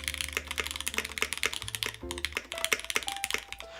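Typing on a custom-built Gehirn60 mechanical keyboard with a deeper spacebar produces rapid, uneven clacks and thocks, close and crisp, with a few keystrokes landing in quick bursts.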